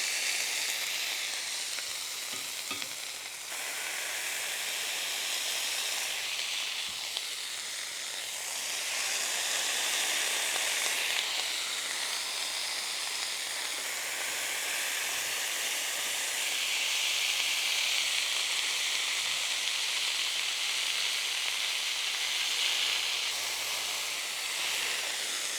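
Smash burger patties sizzle on a hot griddle, a constant bright frying hiss that swells and eases slightly over roughly twenty-five seconds, close and unbroken.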